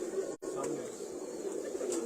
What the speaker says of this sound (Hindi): ये मिस्सा कबूतर है जी